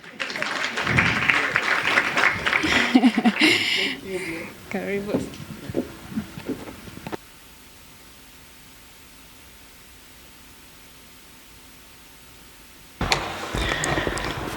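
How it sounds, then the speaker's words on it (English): Applause from a symposium audience fills the first seven seconds and fades out, then after a quiet stretch a burst of clapping returns as a speaker takes the stage, with speech mixed in. "Keep clapping until she gets on stage."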